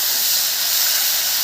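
Shrimp frying in hot oil in a pan, giving a steady, even sizzling hiss that stays loud and unbroken throughout, with no voices.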